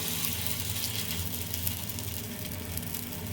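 A sweet snack frying in oil in a kitchen pan gives a steady, fairly quiet sizzle with fine crackling spread evenly through the clip, without talk and without any pauses.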